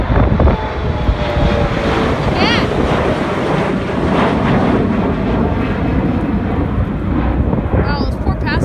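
A small passenger airplane passes during a go-around at an airport on a very windy day, a steady loud engine drone mixed with wind buffeting the microphone, with brief voices near the end.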